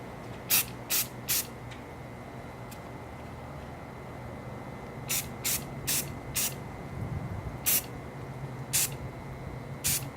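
A can of matte black spray paint is sprayed onto a Nerf gun part in short, sharp hissing bursts, a quick cluster early and then a spaced series later, close by over a quiet background.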